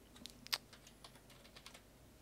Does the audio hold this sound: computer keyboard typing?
yes